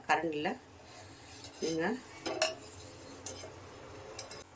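A metal ladle scraping and clinking against a pan while scooping fried boondi for kara boondi, a few distinct metallic knocks and scrapes spread across the moment, with a voice talking in between.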